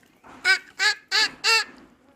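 A voice imitates a duckling's call with four evenly spaced, nasal honking quacks, close and clear with no other sound.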